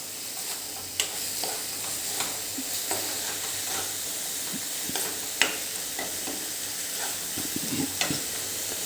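Red chilli powder and coriander-cumin powder are stirred together in a hot pan for a dry chori (cowpea) curry, with a steady sizzle and scattered light scrapes and taps from the spoon across the whole stretch, no voices.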